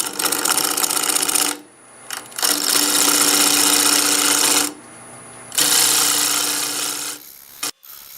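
A wooden blank spinning on a wood lathe at about 900 RPM while a tool cuts it round and flat, loud bursts of rasping cutting separated by brief quieter pauses, close up with no talk.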